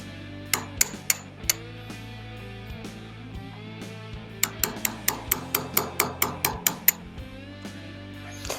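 Hammer and punch tapping a rear sight out of the dovetail on a Smith & Wesson CSX pistol, sharp metallic strikes, a few spaced blows and then a quick run of about a dozen evenly paced taps.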